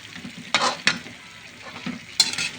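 Vegetables including bell pepper and carrots are stirred in a sizzling frying pan, with a few sharp utensil scrapes and clacks against the pan over a steady low frying hiss.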